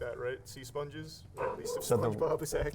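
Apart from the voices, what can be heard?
dog barking in the background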